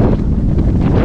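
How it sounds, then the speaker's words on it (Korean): Strong mountain wind roars across the mic on a Sobaeksan ridge, a dense, continuous buffeting gust that fills the whole short clip loudly with no pauses. "바람 소리밖에 안 들릴 것 같습니다."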